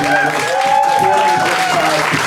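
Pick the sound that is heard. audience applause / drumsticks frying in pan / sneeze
audience applause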